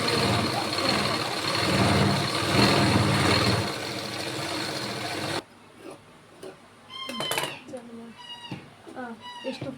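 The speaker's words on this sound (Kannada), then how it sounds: "ನಾನು ಹೊಲಿಗೆ ಹಾಕ್ತೀನಿ" A sewing machine runs a straight stitch through fabric with a loud, steady whirring drone for about five seconds, then stops and a voice talks amid quieter background sounds.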